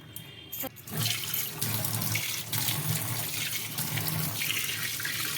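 Water runs steadily from a kitchen sink tap during sink cleaning, a continuous close hiss and splash that keeps going with no one talking.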